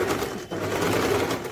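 Sewing machine running steadily while stitching a doubled seam on an umbrella-cut suit, a continuous close whirring hum with a brief dip partway through.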